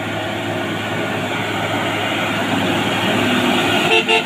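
A truck labours up the Kedabuhan hill in low gear, giving a loud, steady engine drone that holds throughout and wavers only slightly near the end.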